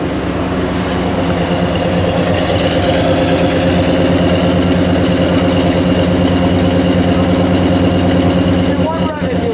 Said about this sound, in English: Get that exhaust and idle for a second.